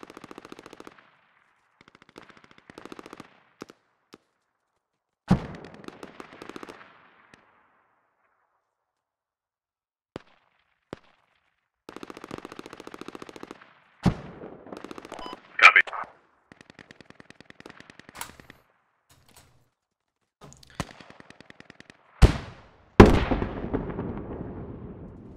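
Gunfire and mortar impacts in the military shooter game Squad, with sharp bursts of machine-gun fire, several loud isolated blasts and a heavy explosion near the end, interspersed with radio-style voice chatter and quiet gaps.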